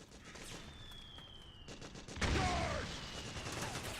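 Gunfire and bursts of combat noise in Metal Gear Solid 4, with rapid crackling shots and a louder surge midway, set among battlefield sounds of grenades and mortar fire.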